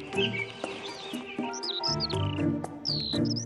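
Several birds chirp and tweet in quick, bright bursts, close by, trading short calls back and forth in reply to a singer, with no talking.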